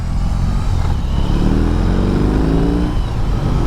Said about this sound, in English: That's such a fun motorcycle.